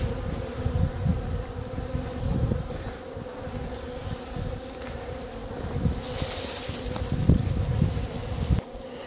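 Honey bees buzz continuously from an opened winter beehive during an inspection, a dense, close drone with shifting swells throughout, plus soft handling rustles.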